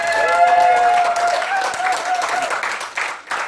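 An audience at an evening seminar in Auckland applauds as a guest is introduced, with a steady wash of clapping and crowd noise under a host's voice.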